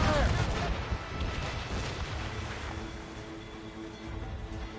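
Ship cannons fire in a naval battle against a convoy ship in Assassin's Creed Rogue, giving a loud booming blast at the start that rolls into a long rumbling wash of sea and battle noise, with shouted orders over it.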